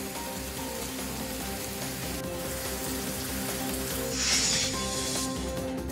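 Heavy monsoon rain pouring steadily in Thane, a constant broad hiss with a brief louder swell near the end, no voices.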